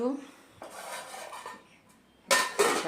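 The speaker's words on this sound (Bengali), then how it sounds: "মাংসটাকে একটা একটা করে ধুয়ে এই যে থালার মধ্যে রাখছে" Pieces of raw meat, about a kilogram, washed and set one by one onto a plate, giving soft wet handling sounds and then two louder clattering scrapes against the dish near the end.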